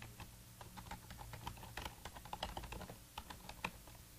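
Code being typed on a computer keyboard, a rapid irregular stream of close, light key clicks, quiet and continuous with no talking.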